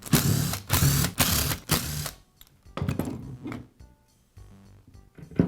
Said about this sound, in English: Now I'll separate the gearbox from the motor